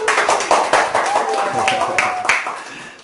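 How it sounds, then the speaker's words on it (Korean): Audience clapping at a humanities lecture to congratulate a young woman marrying next week, a brisk burst of claps mixed with voices chattering and talking throughout. "박수 한번 줄까요? 박수."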